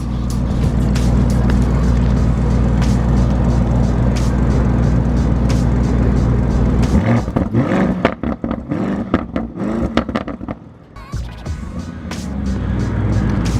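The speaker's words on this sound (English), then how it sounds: "I'm gonna go ahead and give it a little bit of a gas so you guys can get an idea how the car sounds" A 2020 Lamborghini Urus engine revs loudly in a sustained roar, then settles into a choppier idle with brief bursts of throttle before rising again.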